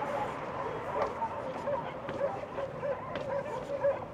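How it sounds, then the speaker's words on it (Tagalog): Dogs bark and yip in the distance on a night street on the Mount of Olives in Jerusalem, a repeated rhythmic series of faint, far-off calls over a background hum. "May mga aso din pala dito pag ganitong gabi. Maingay."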